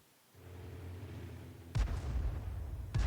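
In the World of Tanks video game a Soviet KV heavy tank gun fires in a sudden loud boom over a low rumbling engine drone, followed by a second report near the end.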